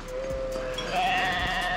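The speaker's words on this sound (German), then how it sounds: "Schafe und Ziegen." Sheep and goats bleating on an alpine mountain pass, several overlapping calls close by, steady and fairly loud, with no talking.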